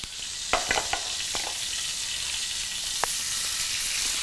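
Lobster pieces stir-fry in a hot pan over a strong fire, a steady close hiss of sizzling with a few sharp scraping and clattering stir knocks early on, then continuous frying.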